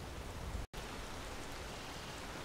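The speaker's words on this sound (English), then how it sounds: "for some reason it's raining" Steady rain falls in Skyrim, a dense even hiss that is briefly cut to silence before resuming at the same level.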